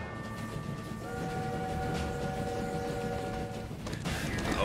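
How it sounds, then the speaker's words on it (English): Train in My Time at Sandrock rumbling along with a long sustained horn blast layered over the rolling noise, loud and close, no speech. "Stop the train!"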